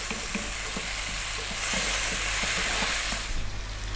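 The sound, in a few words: tomatoes cooking down in a pan for lamb curry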